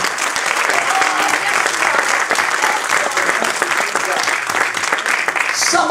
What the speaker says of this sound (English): Give the Lord a great hand clap.